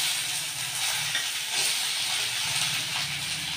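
Chopped tomatoes go into onions frying in a pan for Tirunelveli-style mutton gravy, giving a steady close sizzle and hiss with soft stirring scrapes and no talking.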